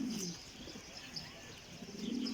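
Soft, low pigeon coos rise at the start and end, with a faint chirp in between, over a quiet outdoor background.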